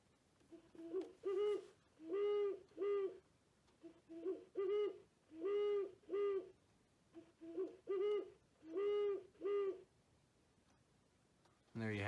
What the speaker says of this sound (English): this is the Great Horned Owl.